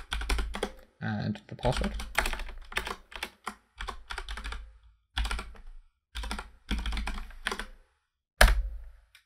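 Computer keyboard typing while a Windows web server is joined to a domain and credentials are entered; bursts of close, clicky keystrokes alternate with someone talking over them, ending in a sharper key tap.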